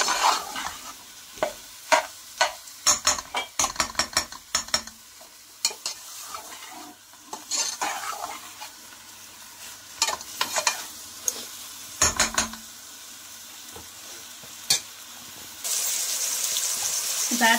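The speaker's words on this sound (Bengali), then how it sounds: "মাংসটা ভালো করে মশলার সাথে কষিয়ে নেব।" Chicken pieces stirred and fried with spices in a pan, with repeated sharp scraping strokes over a steady sizzle throughout, close and fairly loud, with a brief burst of louder hissing near the end.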